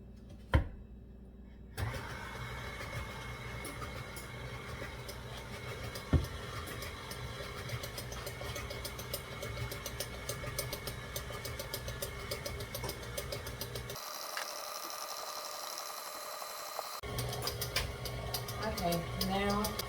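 An electric mixer on low speed runs for several seconds as dry ingredients go into a Biscoff pound cake batter, giving a steady mechanical whir that stops briefly and then starts again, with a knock near the start.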